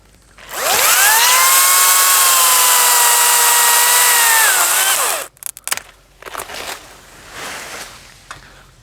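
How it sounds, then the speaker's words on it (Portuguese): A power saw cuts through a tree branch at a 45-degree angle during pruning, a loud, steady whine lasting about four seconds that cuts off abruptly, followed by rustling and the branch falling. "E agora eu corto pelo outro lado, mais ou menos uns 2 centímetros acima do corte que eu cortei daquele lado, também em uns 45 graus."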